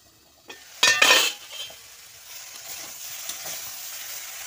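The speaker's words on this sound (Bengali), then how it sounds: "ভালো করে নেড়ে চেড়ে ঢাকনা দিয়ে দেবো।" Pieces of ash gourd tossed into hot oil and stirred in a pan, opening with a loud burst of sizzling and utensil scrapes that settles into a quieter, steady frying hiss.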